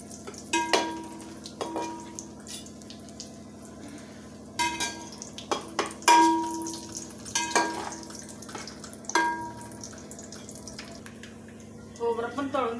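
Grated coconut frying in oil for poha chivda, with soft sizzling under repeated clinks and scrapes of a stirring spoon against the pan, close, while someone talks throughout.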